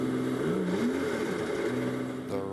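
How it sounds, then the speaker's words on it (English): Ferrari GT race car at the 24 Hours of Spa, its engine revving with a drivetrain fault, heard as a close, continuous mid-pitched engine note whose pitch rises and falls unevenly over a couple of seconds. "The revs of the engine aren't matching the motion of the forward propulsion"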